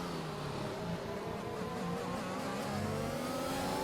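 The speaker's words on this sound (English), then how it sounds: "you can just hear how easy he is in the throttle." Heavy racing car on full fuel load at Hungary in a video game race, its engine droning steadily and close with gentle throttle variation throughout, no talk over it.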